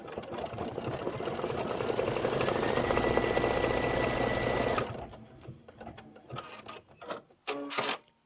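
An embroidery machine stitches a banana decorative outline with a steady, fast mechanical hum and needle rattle for several seconds, then stops, leaving scattered clicks and rustles.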